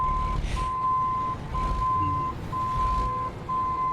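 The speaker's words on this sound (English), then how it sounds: "The reversing noises." Truck reversing alarm in American Truck Simulator: a steady, loud high-pitched beep repeating in long pulses about once a second, over low engine rumble with brief gaps between tones.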